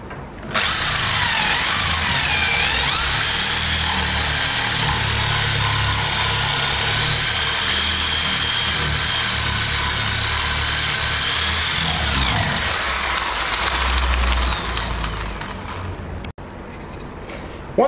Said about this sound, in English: Once we have drilled all the holes,